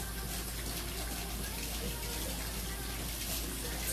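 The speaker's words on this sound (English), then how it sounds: "I'm sorry to wash my hands for a second." A tap runs in a steady, loud, close rush of water while hands are washed, a continuous gush with no breaks, and someone may be talking faintly beneath it.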